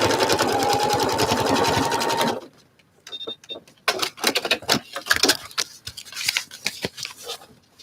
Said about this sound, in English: sometimes I have to feel which line is it I'm sewing on